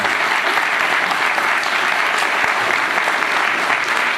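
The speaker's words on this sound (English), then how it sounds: "we owe them a round of applause for all the hard work" A town hall crowd gathered on Common Core gives sustained, thick applause, loud and continuous across the whole stretch with a few sharper claps standing out and no talking on top.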